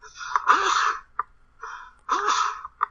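Two sharp, close sneezes, each led by a quick gasping intake of breath, with a short pause between them and a brief sniff after each.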